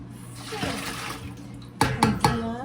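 Steady broadband rush of four cups of water pouring into a big pan, continuous for most of the clip, followed by a few sharp clanks near the end.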